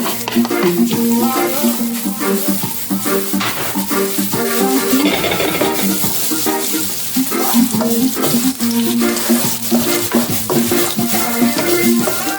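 Curry chicken feet stew cooking in a pot with oil, a loud, continuous sizzle and frying crackle mixed with stirring scrapes, steady and close for the whole stretch.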